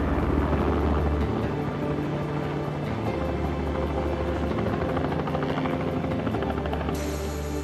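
A rescue helicopter runs close by, its rotor producing a loud, steady thudding drone that continues without a break, with no speech over it.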